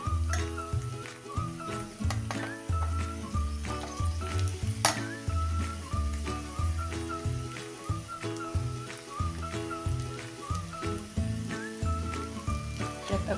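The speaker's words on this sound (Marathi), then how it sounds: "जिरे पावडर की आता तेलात चांगलं मिक्स झालं की त्यामध्ये हा आता उकडलेला फणस टाकून घेऊया" Boiled raw jackfruit sizzles in oil seasoned with cumin powder, a busy, close frying crackle with rhythmic stirring scrapes and occasional light clinks of a spoon against the pan, with no talking.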